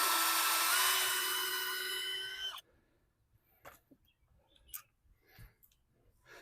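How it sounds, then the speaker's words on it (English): A power drill drives screws into a wooden post for backyard tomato supports, a steady high whine for over two seconds that winds down and stops, followed by scattered light clicks and handling knocks. "do need to drill a kind of a pilot hole to be able to get the screws in."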